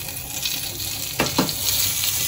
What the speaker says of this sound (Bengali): এটার মধ্যে আমি এখন 1 চামচ মতো, 1 চামচও না, অল্প পরিমাণ একটু বাটার দিয়ে দিচ্ছি।